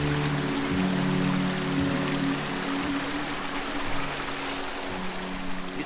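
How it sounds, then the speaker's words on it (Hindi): A small clear mountain stream beside a trail hotel near Fairy Meadows, Nanga Parbat, flows in a steady, close rushing wash with no talking. "ये जो पानी आ रहा है, ये साफ पानी है।"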